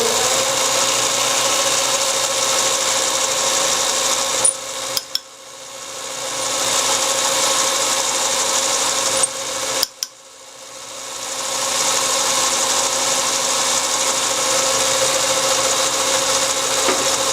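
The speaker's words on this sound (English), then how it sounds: "But I'll drill my depth hole." A steady, loud whirring drone from a drill boring a depth hole into cherry wood, running continuously and briefly stopping twice before resuming, close by, with no talking.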